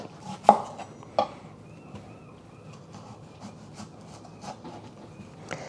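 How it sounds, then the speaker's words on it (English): A knife chops through an onion on a cutting board, giving two sharp, close knocks early on followed by a few softer, scattered taps against a quiet room background. "1 onion that I'm going to chop."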